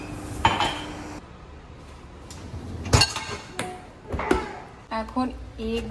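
Pots and dishes clank and clink in a home kitchen as tea is put on, with sharp metallic knocks and rattles scattered between quieter moments.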